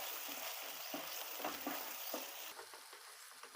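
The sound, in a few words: paneer curry with fresh cream cooking on low gas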